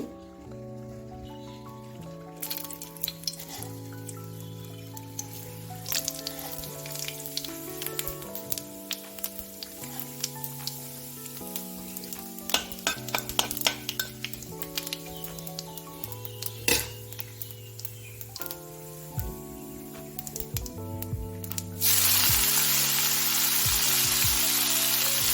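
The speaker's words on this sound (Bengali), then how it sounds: "তেলের মধ্যে ফোড়ন দিয়ে দেবো শুধু" Cumin seeds and dried red chillies tempering in hot oil, then cabbage frying, with clinks of utensils and stirring under background music, ending in a loud, bright sizzle as food hits the oil, no talking.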